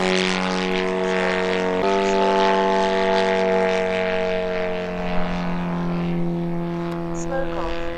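A 47% scale Pitts Special model airplane with a Valach 17 engine fitted with a smoke system, running with a loud steady engine drone that holds its pitch for the whole stretch, a faint voice talking now and then.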